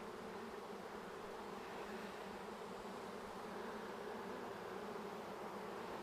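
Honey bees swarming around an open hive with the queen present, a dense continuous buzzing drone, close and steady, with no voices.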